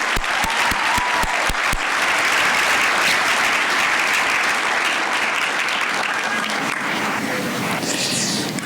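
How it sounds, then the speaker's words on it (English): Sustained, loud applause from an awards audience honoring a table of honorees at a Forty Under 40 event, a dense crowd clapping with a few sharp near claps at the start. "One more round of applause for this great table of wonderful honorees."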